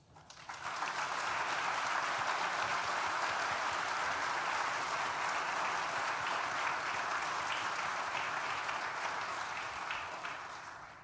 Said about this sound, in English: Please join me in thanking them with a well-deserved round of applause.